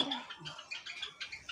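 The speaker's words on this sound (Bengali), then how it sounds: "অনেকগুলো পাখি আছে কলোনিটা বেশ খুব সুন্দর দেখছি" A colony of Java sparrows chirping in an aviary, short bright twittering calls repeating in quick bursts, close and lively.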